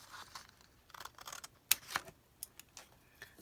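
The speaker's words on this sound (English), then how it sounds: "I'm just going to cut this one out here" Scissors snipping out a paper shape at close range, a few sharp, irregular cuts and crinkles separated by short pauses, quiet and alone.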